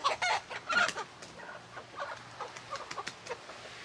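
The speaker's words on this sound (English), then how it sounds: "my birds are having a little problem over there with one of the roosters" A rooster squawks and clucks in a few sharp bursts near the start, followed by softer scattered clucking from backyard fowl nearby.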